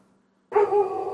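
A dog lets out a single close bark, sudden after near silence, trailing into a brief whine-like tail.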